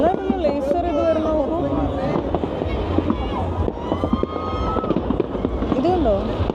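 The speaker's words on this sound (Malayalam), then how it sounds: "ബിൽഡിങ്ങിൻ്റെ മുകളിൽ നിന്നും ഇങ്ങനെ നല്ല രസമായിട്ട് ഫയർ വർക്ക്സ് ഇങ്ങനെ കാണാം" New Year fireworks over Melbourne city, watched from a building top, as scattered crackling pops and bursts under steady close talking and a murmuring crowd throughout.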